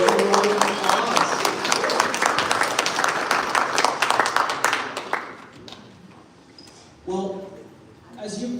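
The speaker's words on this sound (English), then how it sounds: "Give a round of applause." An audience at a product launch livestream gives strong, dense applause that lasts about five seconds and then fades out. Someone speaks over the tail and briefly afterward.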